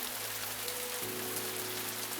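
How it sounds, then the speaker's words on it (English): Rain falls steadily in a dense, even hiss of drops on a surface, with a low background hum beneath. "I looked at the floor where the raindrops fell"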